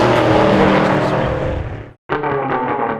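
A muscle car at a drag racing event doing a burnout to heat its tires, a loud, roaring engine that cuts out abruptly for a moment and then returns at full volume, with no talking.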